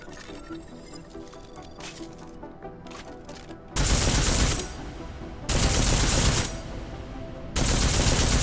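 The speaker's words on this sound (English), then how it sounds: "Let's try armor piercing this time." Armor piercing rounds fired in Deus Ex: Mankind Divided: three loud, sustained bursts of automatic gunfire, each lasting about a second, following a quieter stretch of ambient game sound.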